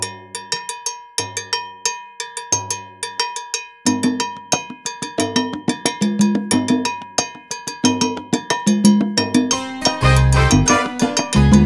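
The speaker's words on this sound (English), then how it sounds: "It's called the mambo bell pattern, and it sounds like this." Mambo bell pattern struck on a cowbell for salsa, a syncopated metallic rhythm that repeats cleanly, first alone and then joined by drum-kit hits and a fuller groove toward the end.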